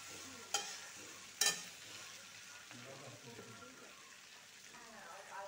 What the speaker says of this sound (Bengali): নাড়াচাড়া দিব